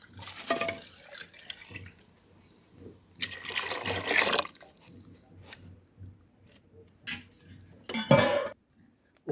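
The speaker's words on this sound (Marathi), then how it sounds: "आपण थोडंसं पाणी टाकूया." Water is poured into a simmering pot of Malvani tambda rassa, a red mutton curry, on a fire. Splashy pouring bursts come in a few separate pours amid light clinks of pots and utensils.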